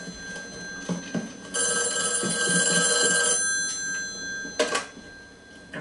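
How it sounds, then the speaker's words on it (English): Telephone ringing in the video game Call of Duty Warzone, a loud bright electronic bell trill sounding for a couple of seconds, then a shorter second burst after a pause, with faint clatter around it. "Oh, I hear the telephone ringing."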